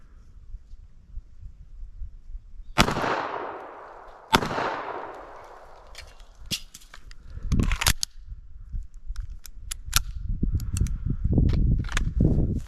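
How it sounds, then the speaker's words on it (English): Pistol shots fired at a green 4x6 card target 20 yards away on an outdoor range: two sharp, loud cracks with long decaying echoes, followed by fainter clicks, handling noise and low rumbling. "Take a couple shots at that green 4x6 card."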